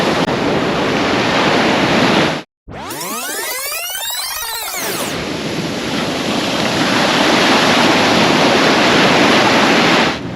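Calm ocean waves at a Cancun beach in the Hotel Zone, a steady, loud wash of surf and wind noise filling the whole stretch, broken briefly by a dropout and a sweeping burst, with no talk.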